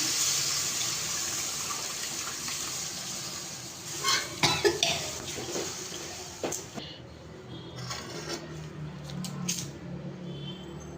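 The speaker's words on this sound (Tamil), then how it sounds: "புளி தண்ணி ஊற்றிக்கலாம்." Tamarind water is poured into a fish curry at home, splashing and gushing in short bursts into the pot, close and moderately loud against faint background noise.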